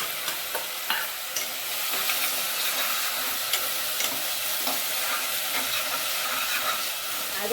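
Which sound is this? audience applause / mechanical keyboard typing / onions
onions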